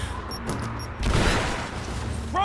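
Gunfire in the video game Rise of the Tomb Raider: a sustained burst of shots and booms swelling midway over a steady background rumble, loud and alone without talk.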